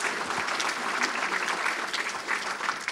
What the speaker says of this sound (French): Donc, Monsieur Poupon, je crois que vous êtes remercié en retour par les applaudissements.